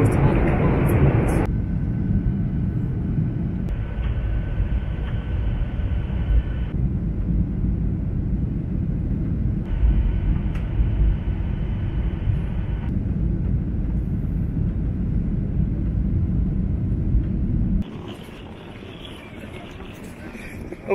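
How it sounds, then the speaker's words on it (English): Airplane cabin during a turbulent flight into Kabul, a steady loud low roar of engines and airflow that shifts slightly in tone, continuous throughout. "we're on the plane. There's some pretty crazy turbulence"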